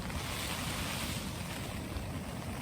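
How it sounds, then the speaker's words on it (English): Steady roar of strong wind and heavy rain battering a tent at night during winter wild camping, a dense continuous wash with no pauses. "now it's blowing a gale and pouring down"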